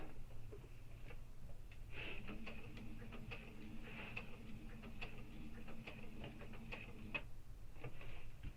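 Sewing machine needle turned slowly by a hand crank while stitching a backpack lining, giving faint, quiet mechanical ticks and clicks in an irregular rhythm over a low background hum.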